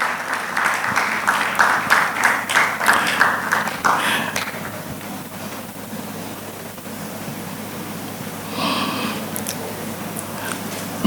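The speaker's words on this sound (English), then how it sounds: "Please give her a very, very hearty round of applause." A law conference audience gives a round of applause for a seasoned commercial law practitioner, clapping rising and pulsing for about four seconds, then thinning to scattered faint claps over room noise.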